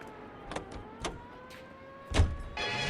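A car in the video game L.A. Noire, an engine hum with rising whine as it accelerates, punctuated by a few sharp clicks and a louder rumbling surge near the end.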